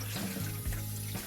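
A kitchen water tap runs briefly while beef tongue is rinsed under it, a quiet short splash with no talk.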